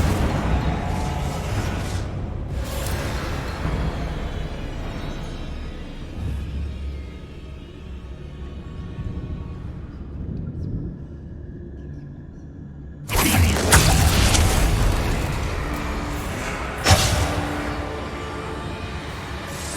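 Blasting-spell explosions in the Hogwarts Legacy video game, a low rumbling stretch that fades to near quiet, then a sudden loud burst with crackling debris and another sharp blast shortly after.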